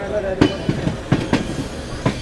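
An Amrit Bharat Express rolls along the rails near Bangalore, with a steady rumble and sharp rhythmic wheel clacks over the joints, heard from inside the moving train.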